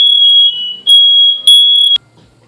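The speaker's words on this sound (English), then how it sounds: "Evidently my soldering and everything has just set off the fire alarm" Smoke alarm set off by soldering fumes while working on an E-flite P-51D UMX model plane, giving loud, piercing high-pitched beeps in three long bursts with short gaps, then cutting off to near silence.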